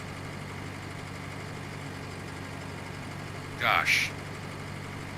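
A tractor engine idles with a low, steady drone in Farming Simulator, running continuously while a man briefly exclaims over it.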